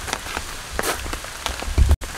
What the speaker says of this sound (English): it's just non-stop rain all weekend.